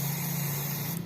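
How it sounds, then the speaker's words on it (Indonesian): Carburetor cleaner sprayed from an aerosol can onto the bolt holes of a carbureted Honda Vario 110 motorcycle, one steady close hiss lasting about a second. "Kita semprot dengan karburator cleaner ya,"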